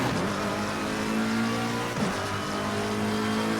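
A GT race car in the Assetto Corsa Competizione racing game drives a lap on the Intercontinental GT circuit, its engine a steady loud drone with a quick dip as it shifts gear, then a rising pitch again.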